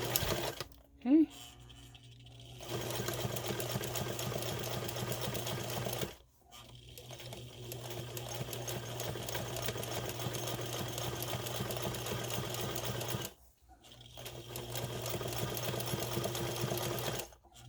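A sewing machine stitches a fabric pouch in steady, continuous runs, pausing briefly twice, with a faint voice heard near the start.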